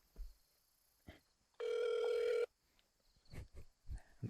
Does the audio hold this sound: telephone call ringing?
yes